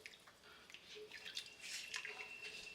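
Water is poured into a pot to make chicken broth, a faint, uneven splashing and trickling that swells and fades over a few seconds in a quiet kitchen.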